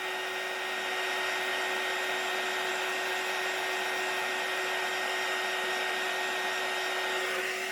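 An embossing heat gun blows steadily with a constant, loud whooshing hum and a fixed whine, running unbroken from start to finish while craft work is done on a Christmas card.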